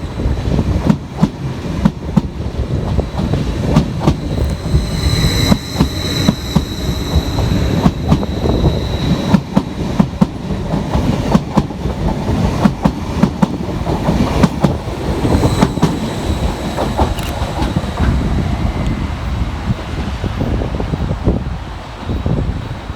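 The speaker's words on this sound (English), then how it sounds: "kicking us off is 745008, working the 1147 Greater Anglia service from London Liverpool Street through to" Greater Anglia Class 745 electric train passing through Colchester station on the Great Eastern Main Line, a loud close rumble with rapid rhythmic wheel clatter over rail joints and a faint high whine, sustained throughout.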